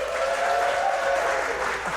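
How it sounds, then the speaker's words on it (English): Live audience at a comedy podcast taping in Houston breaking into applause, a continuous, fairly loud roar of clapping with a faint high tone running through the middle, steady from start to finish. "Round of applause"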